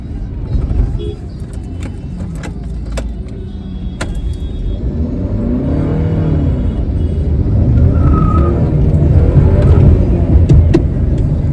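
Car engine rumbling and revving, the pitch rising and falling in sweeps, loud and close, with a voice talking over it.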